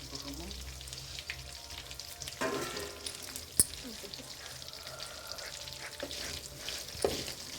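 Steady sizzling and frying of black pepper and curry leaves in hot ghee, continuous crackle with a few sharper pops and stirring clinks, close and moderately loud, no talking.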